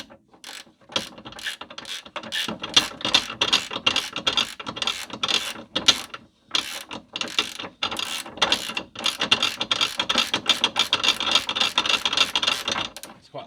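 Hand ratchet clicks rapidly and continuously as it runs a nut up a long thread on a Ford C-Max rear anti-roll bar drop link, close and busy, with brief pauses between strokes.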